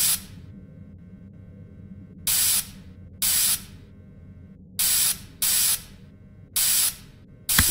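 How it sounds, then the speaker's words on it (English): Bursts of spray from a can or nozzle coat an animatronic suit in a horror video game test room, six hissing blasts of roughly half a second each, loud and close, over a low droning background. "So go ahead and start spraying the suit"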